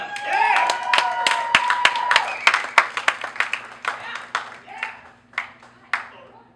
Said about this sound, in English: you can go and clap real loud for her